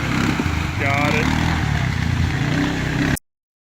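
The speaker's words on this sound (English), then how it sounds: "first time using a chainsaw" A chainsaw runs close and loud outdoors, its engine droning steadily for about three seconds before cutting off abruptly.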